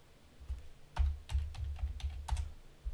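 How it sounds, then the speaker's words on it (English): Keys tapped on a computer keyboard in a quiet room, a handful of distinct clicks in an uneven rhythm over about three seconds, close and fairly soft. "If I type in CALM right here"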